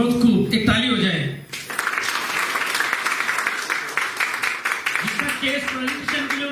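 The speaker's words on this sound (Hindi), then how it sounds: "एक ताली हो जाए।" Audience applause fills a hall at a religious debate, starting after a short spoken phrase and continuing as a steady, dense roar, with a voice talking over it near the end.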